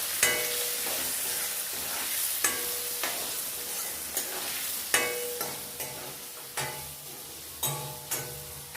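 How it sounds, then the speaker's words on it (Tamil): Sharp crackles and pops burst irregularly over a constant sizzle of hot oil, close and loud, as chillies fry in a pan. "அது போடும்போதே வெடிக்குது பாருங்க"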